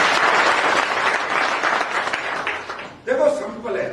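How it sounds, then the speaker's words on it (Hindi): Loud applause from an audience at a talk, dense clapping filling the first three seconds before a voice starts speaking over the fading claps. "एक बार जोरदार ताली दें।"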